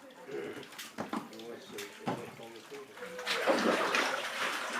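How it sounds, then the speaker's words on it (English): Bark fibre is mixed with water into paper pulp in traditional papermaking, a low sloshing and trickling that swells toward the end, heard beneath a person talking. "This is mixed with water again to create pulp"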